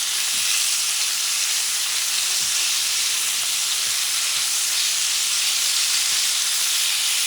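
Pork pieces sizzle steadily in a hot pan for a pumpkin and pork stew, a bright continuous hiss with faint occasional pops, close and uninterrupted.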